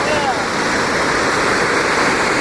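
Mesa Falls in Idaho pours in a loud, constant roar of rushing water, a dense, unbroken wash of sound heard up close.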